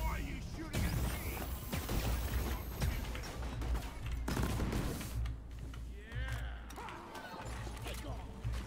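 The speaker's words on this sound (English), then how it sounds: "Why are you shooting at me?" Dense video game gunfire with continuous rapid machine-gun bursts and crashes, loud and sustained under a player's voice.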